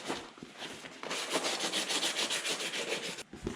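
Dash pad surface from a 1966 C2 Corvette being lightly sanded by hand, a close, steady rasping rub in quick back-and-forth strokes that runs for a few seconds, with a brief pause near the start and silence at the end.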